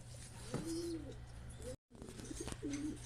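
Racing pigeons coo softly at a loft during a race, two low rolling calls separated by a brief gap of silence, fairly close against a quiet outdoor background.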